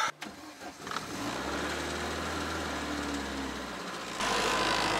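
An old car engine cranks briefly and catches, then settles into a steady, rough mid-pitched idle, loud and close. A louder broadband noise takes over toward the end.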